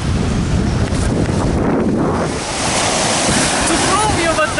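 Surf rolling onto a Sea of Japan beach near Nakhodka, a steady loud wash of breaking waves with wind buffeting the microphone throughout.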